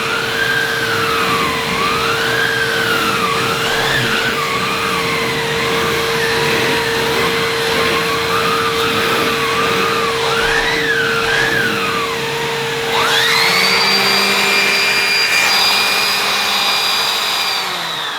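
A Numatic Lewis vacuum cleaner hums steadily and loudly, a constant motor whine with a shifting airflow tone that rises to a higher, stronger pitch near the end as the head is moved.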